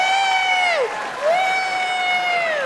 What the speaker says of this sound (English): How many people here by applause are 40 or younger? 40 or younger, applaud.